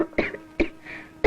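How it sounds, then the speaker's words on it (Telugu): A young woman gives three short, sharp coughs at close range, evenly spaced, in a quiet indoor room. "అమ్మాయి దగ్గుతున్నట్టుంది."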